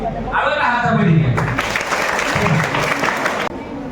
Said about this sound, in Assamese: আৰু এটা হাত চাপৰি দিয়ে